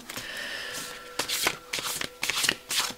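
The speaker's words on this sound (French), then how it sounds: "tout en vous tirant les cartes" Tarot cards being shuffled and drawn by hand, a run of soft riffling and crisp flicking snaps in irregular bursts, close and clear over a faint steady hum with no speech.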